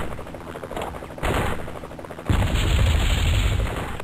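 Heavy gunfire and explosive bursts from the video game Spycraft: The Great Game during a helicopter rescue at a landing zone, a loud, dense roar of shots that surges in two steps and stays continuous.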